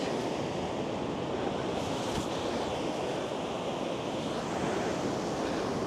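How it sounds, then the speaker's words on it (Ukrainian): Winter Black Sea waves at Lanzheron beach, Odesa, surge in a constant rushing wash, loud and close, with wind buffeting the microphone and no voices. "Ось море."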